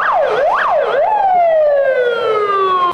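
Fire engine sirens arriving at a hotel fire drill in Sochi wail loudly and close, a rapid rising-and-falling yelp giving way to a long descending tone.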